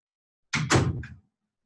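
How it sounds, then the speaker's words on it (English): A room door swung shut with a quick wooden thud and latch click, close and fairly loud, in a quiet indoor space with no talking. "Hold on, I need to close my door."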